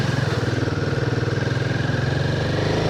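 A motorcycle rides close by on a slippery clay mud road in the Darma region, fishtailing as it goes. Its engine holds a loud, steady, throbbing drone throughout.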